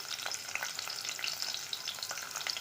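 Chopped onions dropped into hot oil in a pressure cooker crackle and sizzle continuously, a dense bright frying hiss heard up close with no pauses.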